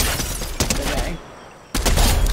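Video game gunfire crackles in two dense bursts, the first lasting over a second and the second starting after a short lull, loud and close.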